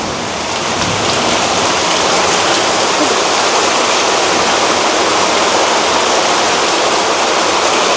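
Whey water from homemade cow's-milk paneer pouring and splashing away in a village kitchen, a continuous rushing wash of liquid, loud and steady with no pauses.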